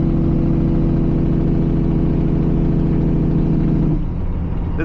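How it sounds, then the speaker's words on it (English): A Detroit 60 series engine in a 2000 Freightliner Classic XL truck drones loud and steady under engine braking on a downhill, a dense low rhythmic rumble that drops abruptly near the end. "I don't know if you guys can hear me with the engine brake"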